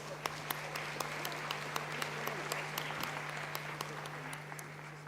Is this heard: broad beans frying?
no